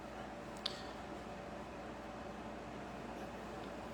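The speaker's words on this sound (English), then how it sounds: "that little constant hum that you probably hear in the background is the air conditioner running." An air conditioner running indoors on a hot, humid day, giving a faint, steady, low hum throughout, with a single brief click near the start.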